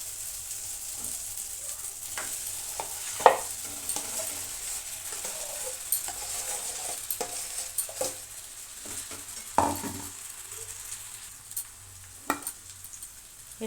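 Mashed potato is sautéed with spices in a pan, giving a soft, low sizzle with scattered scrapes and clinks of a spoon stirring against the metal.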